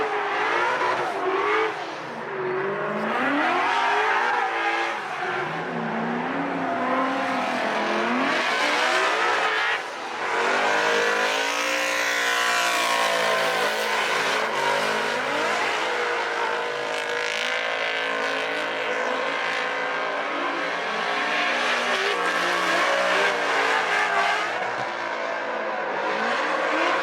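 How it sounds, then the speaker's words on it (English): A 2006 Chevrolet Corvette is driven hard, its engine revving and rising and falling in pitch. Tire squeal is mixed into a continuous loud roar. "All you hear is the squealing of the tires"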